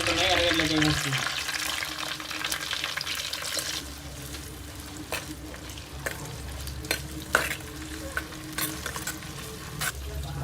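Cumin and fenugreek seeds frying in hot oil in a pot make a bright sizzle that settles into a lower crackle, broken by sharp spoon taps and scrapes against the pot, close and fairly loud.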